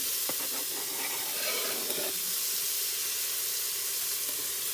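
Garlic sizzles in the hot Instant Pot, a continuous bright frying hiss with a few soft stirring scrapes early on, steady and close with no talking.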